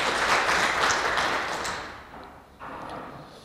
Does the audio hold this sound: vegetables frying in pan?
no